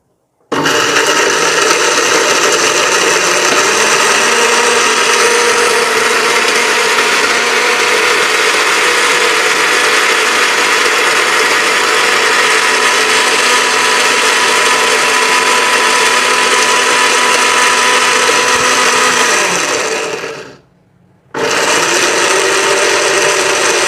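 A blender grinds whole garam masala spices into powder with a loud, continuous, close whirring roar that holds steady for about twenty seconds, cuts out briefly, then starts again.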